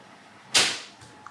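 A Hornby model railway point motor switches with a single sharp, loud snap that decays quickly, followed by a faint second click nearby.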